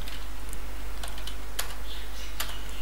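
Computer keyboard typing while writing Flutter code, a few sparse faint key clicks over a steady low hum, no voices.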